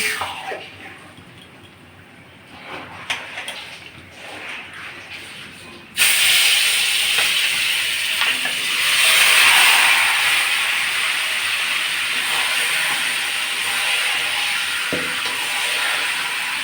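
Marinated food dropped into hot raw mustard oil in a wok gives a sudden burst of loud, steady sizzling. It follows a quieter stretch of faint kitchen clatter and continues strongly to the end.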